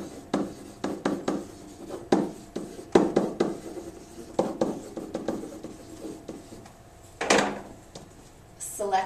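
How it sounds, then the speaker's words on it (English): A pen tapping and stroking across a smart board surface, in short bursts of scratchy, knocking contacts with pauses between them, close by and fairly quiet. "I'm going to use my pen and write the answer."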